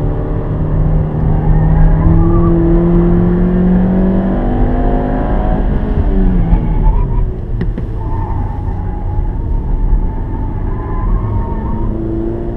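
Ford Ka+ 2017 lapping a track at speed, loud in-car engine drone rising and falling through gear changes, with brief tyre squeal and braking near the middle, continuous with no talk.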